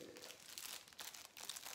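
Paper napkins being peeled apart into separate layers for a handmade album cover, a soft, close, continuous crinkling and rustling of thin paper.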